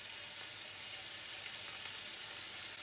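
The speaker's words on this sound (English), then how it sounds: "get like a level surface, don't overlap the beef, because we want them to cook evenly" Beef frying in a pan, a constant close hiss and crackle of sizzling meat that holds steady throughout, with no voices.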